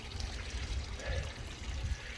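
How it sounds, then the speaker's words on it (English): Water runs steadily over a small fish pond waterfall, a soft continuous splashing and trickle that stays close and fairly quiet. "making nice cooling noise from the water running"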